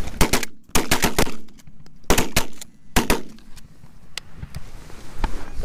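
Shotgun blasts fired at Canada geese during a hunt, several loud sharp shots in quick bursts with short gaps between them, echoing across open ground, no talking.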